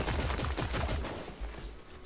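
Rapid gunfire in the online shooter Creative Destruction, a fast burst of automatic shots rattling for about two seconds, fairly faint and somewhat distant, with no talk over it.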